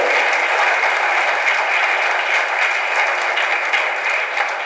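Audience at a Tamil debate event applauding, a steady, loud, dense wash of clapping from a large crowd that holds evenly throughout with no speech over it.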